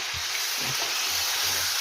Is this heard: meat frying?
yes